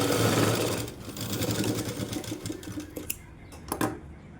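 Sewing machine running steadily while stitching a puff sleeve with piping, a continuous close whirring hum that slows and breaks into a few short bursts near the end.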